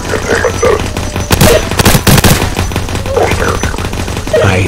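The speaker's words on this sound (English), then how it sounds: "Fine, I'm pulling out my gun. Let's take these villains out." Rapid bursts of gunfire in a Roblox game, with loud overlapping volleys in the middle flanked by scattered shots and in-game sound effects.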